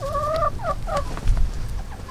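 Hens in a chicken coop cluck and warble in short rising calls, close and fairly loud, over a low rumbling background with a faint thump partway through.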